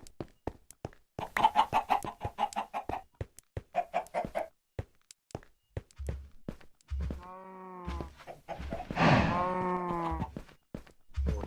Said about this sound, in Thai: มีไก่ด้วย